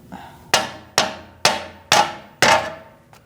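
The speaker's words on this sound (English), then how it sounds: "just hammer on the pry bar a little bit in front of it" Five sharp metallic hammer blows struck on a pry bar to drive a stuck bolt from a rear forward lower control arm on a 2008-2014 Mercedes-Benz C300, evenly spaced about half a second apart, each ringing and decaying quickly, close and loud.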